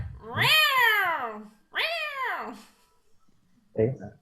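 A person imitates a cat, giving two long, rising-and-falling vocal meows in close succession, then a short clipped meow-like sound after a pause, loud and close with little else around.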